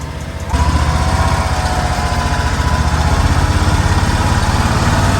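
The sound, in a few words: John Deere utility vehicle engine running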